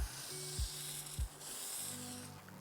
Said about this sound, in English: use the Got to Be Glued blasting freeze spray